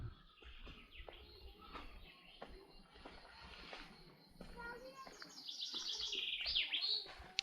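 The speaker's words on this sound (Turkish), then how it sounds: "Kuşlar ne güzel ötüyor ya." Birds chirp and trill in the distance on a nature walk at Kilimli Bay in Ağva, Turkey, their song growing clearer and louder toward the end, while people talk faintly nearby.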